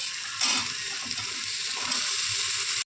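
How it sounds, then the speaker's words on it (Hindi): Pumpkin sizzles in a hot pan for a sabzi, a continuous, moderately loud frying hiss with soft stirring movements and a brief clatter near the end. "अब मैं इसमें कद्दू डालूंगी।"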